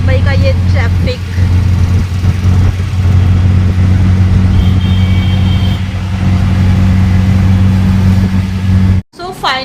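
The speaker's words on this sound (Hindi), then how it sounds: "मुंबई का ये ट्रैफिक" Mumbai street traffic rumbles steadily with car engines idling and revving close by, a dense low hum throughout, while a voice talks over it.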